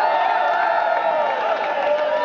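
An audience cheers and whoops in a sustained, loud crowd roar with applause mixed in, dense and continuous throughout.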